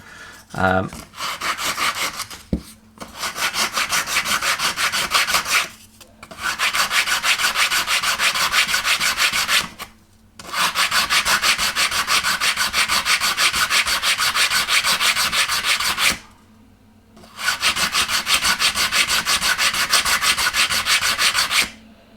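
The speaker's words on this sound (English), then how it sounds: "I've got quite a coarse sanding stick that will just fit in." Coarse sanding stick scrubbing back and forth on a wooden ship model in long, steady strokes, loud and close, with brief pauses between bursts.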